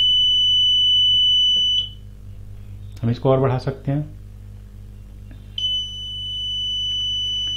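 Wire break alarm kit emitting a steady high electronic beep, cutting off while someone speaks briefly, then sounding again continuously near and clear.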